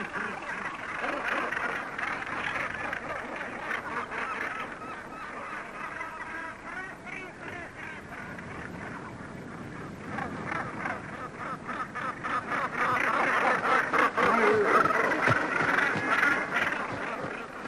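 A dense chorus of gannets calls at a cliff breeding colony, harsh overlapping croaks and honks continuing throughout, swelling louder toward the end.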